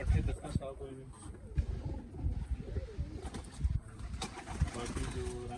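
Pigeons on a rooftop cooing in soft repeated throaty calls, mixed with someone talking nearby and light background noise.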